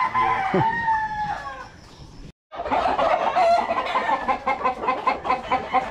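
Gamecock roosters and stags crow loudly nearby, several drawn-out calls overlapping amid clucking and farmyard chatter, with a brief gap midway.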